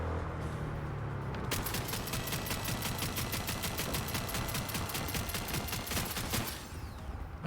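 Sustained rapid automatic gunfire in Cyberpunk 2077, shooting at a pursuing cop during a chase, a dense rattling burst running about five seconds over steady vehicle rumble, loud and close, with no talk.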